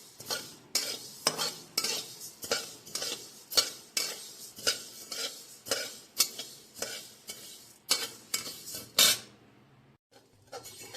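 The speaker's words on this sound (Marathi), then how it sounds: "धने भाजून घ्यायचे आहेत धनेही आपल्याला असेच भाजायचे आहेत" Coriander seeds dry-roasting over a low flame, stirred in a pan with a metal spoon in a steady rhythm of scraping strokes and light rattling, close and clear, ending in near quiet.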